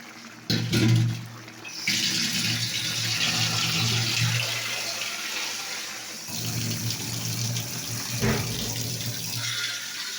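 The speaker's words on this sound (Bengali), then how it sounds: "আর একটু আমি জল দেবো।" Water is poured from a tap into a cooking pot on the stove. The splashing, rushing flow comes in two long bursts separated by a short pause, close and fairly loud, with no talking.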